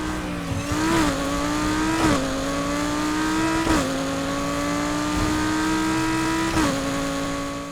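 Audi R8 with the 5.2 engine at high speed in Need for Speed Heat, a sustained loud engine drone with steady harmonics, briefly dipping and surging at a few gear shifts, with no talking.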